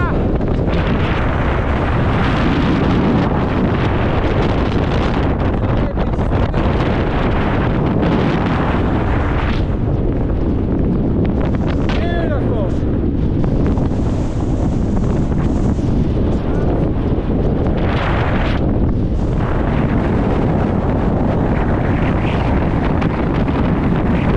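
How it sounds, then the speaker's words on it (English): Strong gusting wind buffets the microphone on a mountain summit on the Coniston Old Man fell round, a loud continuous roar lasting the whole time with brief lulls and faint voices beneath. "Oh, bit breezy"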